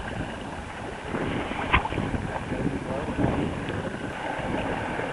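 Wind gusting and buffeting the microphone aboard a sailboat on Sarasota Bay, with the mizzen furled, a broad rushing roar with water wash beneath and a couple of louder gusts.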